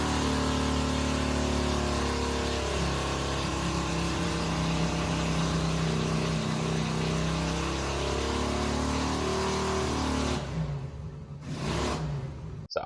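A 200cc V-twin engine with a 2-into-2 exhaust runs hard on a dyno, a loud sustained drone that holds steady for about ten seconds before cutting off, with a brief final burst.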